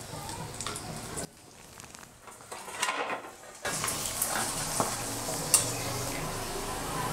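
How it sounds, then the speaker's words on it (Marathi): Sabudana papad frying in hot peanut oil, a steady crackling sizzle that drops away briefly, then returns louder and denser with occasional pops and stirring clinks. "या 3ही प्रकारच्या पापड्या मी आता शेंगदाण्याचं तेल गरम करायला ठेवलेलं आहे, त्यामध्ये तुम्हाला तळून दाखवणार आहे"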